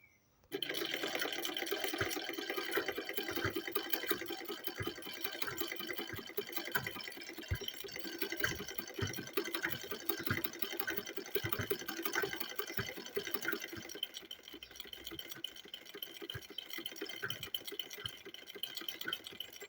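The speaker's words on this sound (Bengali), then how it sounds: "তারপরে কোমরের লাইনটা সেলাই করে নেব" A sewing machine stitches the waistline of a pair of pants, running in one continuous fast mechanical whir with a steady rattle for the full length and no talking.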